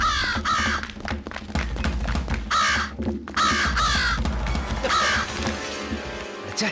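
Loud crow caws repeat in quick harsh bursts, several calls in rhythmic sequence over a busy background with some talk mixed in.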